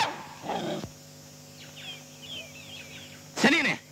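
A stray dog barks in a street scene, with two sharp, close barks about three seconds apart over a quiet background hum and faint bird calls.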